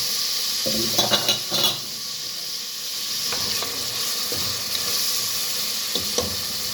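Onions and tomato frying in a pan, a steady bright sizzle running throughout with occasional stirring scrapes and clinks of a utensil against the pan, close and even in level.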